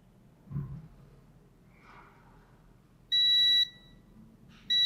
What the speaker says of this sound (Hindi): जंपर लगने के बाद ये सब भी बीप दे रहे हैं